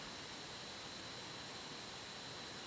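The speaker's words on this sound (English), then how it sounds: "We do have a computer fan running" A running computer fan reaches a nearby microphone as a steady, even broadband hiss, faint and unchanging throughout.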